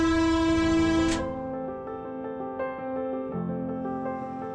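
A freight train on China's New Silk Road railway sounds a long horn blast that cuts off abruptly, followed by a steady rumble of the moving wagons.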